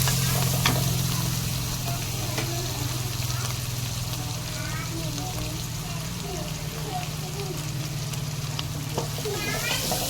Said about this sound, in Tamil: மல்லித்தலையும் புதினா தலையும் வெங்காயத்தோடு சேர்ந்து நல்லா வதங்கட்டும்.